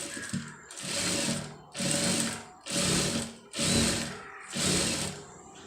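Sewing machine stitching readymade piping along a fabric edge, running in five even bursts of rapid whirring with short pauses between them, close and clear with no talking.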